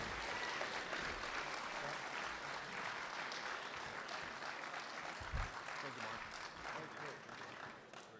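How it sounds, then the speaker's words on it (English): Audience applause at a university debate between Alaska U.S. Senate candidates, a dense, steady roar of many hands clapping that fills the whole stretch, fairly distant, with a single louder thump midway before it begins to thin at the end. "please give both of these candidates a wonderful round of applause"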